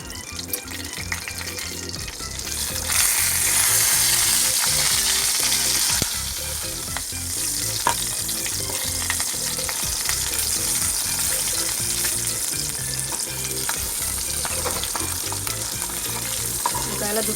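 Stuffed capsicum frying in a pan, a loud, close, continuous sizzle and crackle of hot oil that swells and settles slightly, with no talking.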